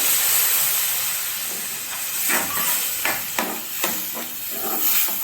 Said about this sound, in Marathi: आता एक वाटी दूध टाकणार आहे